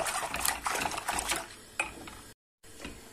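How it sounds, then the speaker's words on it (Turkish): Custard cream whisked in a pot on the stove: quick, repetitive scraping and sloshing strokes, close and fairly loud, briefly cutting out before resuming. "Şöyle aynı yönde güzelce çırpıyorum."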